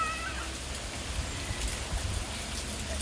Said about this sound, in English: Mama's not getting in the rain.